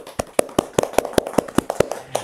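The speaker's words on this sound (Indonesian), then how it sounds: "Tepuk tangan teman-teman." A small group applauds a newly introduced student organization leader at a campus gathering, with about a dozen sharp, evenly spaced claps sounding close and clear with no talking over them.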